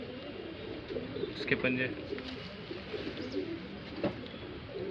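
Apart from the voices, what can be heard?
Shahjahanpuri breed pigeons cooing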